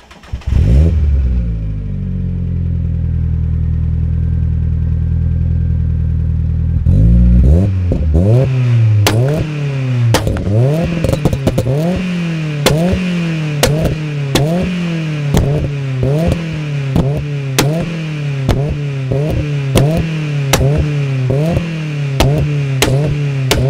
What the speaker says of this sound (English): it's one of the best sounding MX-5s out there.